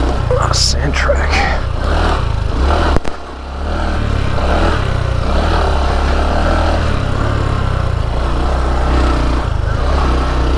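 A new Honda Trail 125 motorcycle rides over a sand dirt track, its small engine chugging steadily up close with wind rush, and a rider talks over it.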